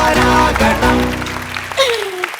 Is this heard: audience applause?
yes